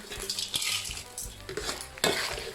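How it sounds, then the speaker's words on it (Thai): Small shrimp are scooped out of a frying pan with a metal utensil after the gas is switched off, giving repeated scraping clinks over soft bubbling oil, close and moderately quiet. "ปิดแก๊สเลยตักกุ้งขึ้นได้เลยนะคะ"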